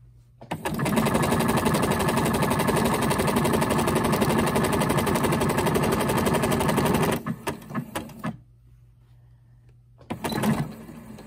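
A sewing machine with a universal needle runs fast and steady, stitching joined jacket strips, then stops with a few short bursts and a brief restart near the end, loud and close.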